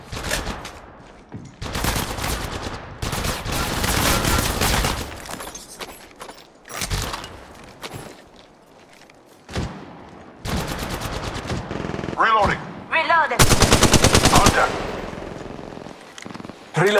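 Gunfire in the Apex Legends Mobile video game: loud automatic bursts and single shots in irregular clusters, with game voice callouts and other in-game effects mixed in.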